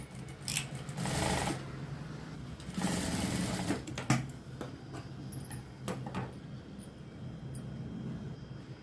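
Sewing machine stitching a blouse, running in two steady motor bursts with a pause between and lighter handling clicks afterward, close and fairly loud.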